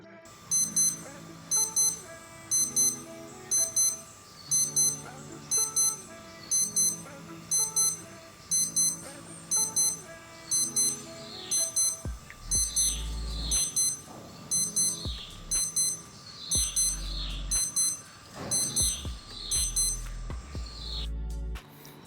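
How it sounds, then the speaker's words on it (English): A Casio retro digital watch alarm sounds in repeated bursts of rapid high-pitched beeps with short gaps between them, fairly close and clear, while other low sounds thump beneath the later bursts. "Now the alarm. It's not ear-shattering,"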